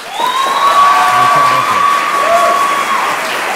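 An audience at a university forum applauds presidential candidate Sergio Fajardo, with steady, fairly loud clapping and crowd noise running the whole stretch and a sustained high whistle-like tone above it.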